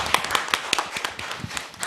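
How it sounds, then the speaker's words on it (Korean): Audience applause at a Korean accelerator roundtable forum, sparse and uneven with distinct individual claps in a short burst, fairly close and moderately loud. "단장님께 박수 한번 더 드리겠습니다."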